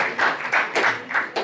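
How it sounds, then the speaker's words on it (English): Audience clapping at a book launch in Lagos, heard as a few rhythmic bursts of hand claps in quick succession, fairly close and clear with no talk over them. "You can clap if you want to clap."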